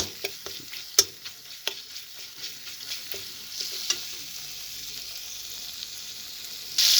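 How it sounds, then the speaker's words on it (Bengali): Spices frying in oil for a prawn malai curry, stirred with a utensil that makes several sharp scrapes and knocks over a steady hiss; the stirring eases and the sizzle continues alone, swelling louder at the very end. "মশলাগুলোকে আমি ভালোভাবে কষিয়ে নেব।"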